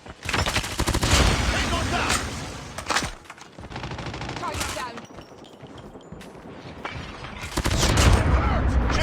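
Rapid bursts of AS VAL rifle fire in a COD Mobile team deathmatch, loud close-up automatic volleys repeating across the span with brief gaps and a player talking over them.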